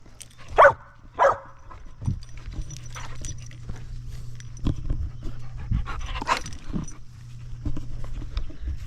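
A dog pants heavily nearby, with a couple of sharp barks early on and whimpering touches, over a low steady background hum.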